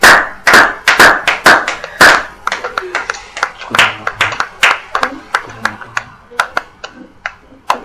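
A congregation claps in a church service, a run of sharp, close hand claps with quick bursts of acclaim, the clapping thinning into scattered, uneven claps and taps toward the end.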